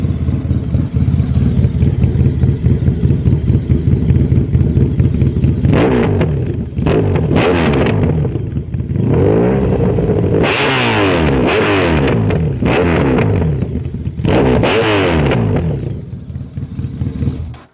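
Honda VFR 1200F with a Coffman exhaust and its dB killer removed, idling loudly then revved hard several times in sharp rising bursts, close and raw with a rumbling idle between throttle blips.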